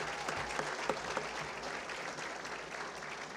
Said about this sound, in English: Join me in applauding and thanking them for being here with us today.